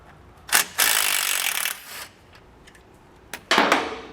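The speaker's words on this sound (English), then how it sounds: "So we're going to take a 13mm socket and remove that bolt right there." A 13mm socket wrench works a bolt loose on a 2021 Chevrolet truck's suspension bracket, giving a couple of brief metallic ratcheting bursts separated by quiet pauses, close and fairly loud.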